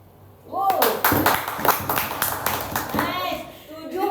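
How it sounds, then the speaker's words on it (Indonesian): Children in a classroom at a special-needs school clap in quick bursts during an Islamic studies lesson. The rhythmic clapping comes close and loud, mixed with children's chatter and a teacher's voice. "Tepuk tangan lagi."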